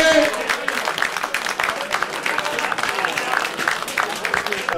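Crowd applause for the players at a USSU versus FC Metz football match, dense steady clapping filling the whole stretch with voices mixed in near the start.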